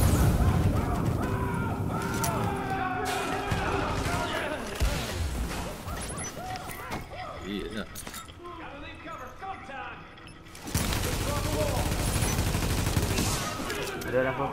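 Gunfire in the video game Tom Clancy's The Division, played in co-op: bursts of shots and clattering impacts layered in a busy mix with in-game voices and music, dropping briefly before a loud return near the end.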